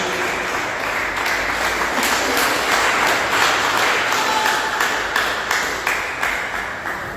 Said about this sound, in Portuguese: uma salva de palmas para Jesus